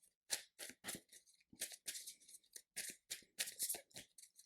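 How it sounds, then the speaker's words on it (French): A deck of game cards for a superhero card game is shuffled by hand, a rapid series of crisp riffling bursts and soft clicks, close and quiet, with no talking. "Je brasse le deck, mais je ne cherche même pas après mon sbire."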